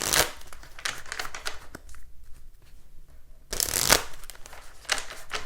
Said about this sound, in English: So let me give this a quick shuffle.